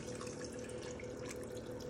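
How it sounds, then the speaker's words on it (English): Water runs steadily from a tap into a Pampered Chef Quick Cooker pot for spaghetti, a continuous close, soft rushing splash with no talk. "Then I'm gonna put some water so the noodles cook."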